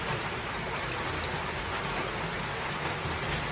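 Dense, steady downpour hisses evenly throughout, a thick wash of heavy rain with no pauses or voices.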